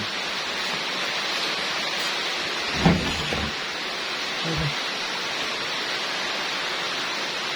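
Steady, even hiss of rain falling, broken by a couple of faint thuds and brief sounds; no talk.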